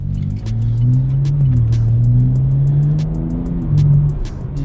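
A 2023 BMW M4 engine revs and accelerates from inside the cabin, a loud, steady low drone rising and falling in pitch across nearly five seconds with no talk.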